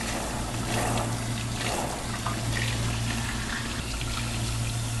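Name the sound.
running water rinsing hair color out at a salon sink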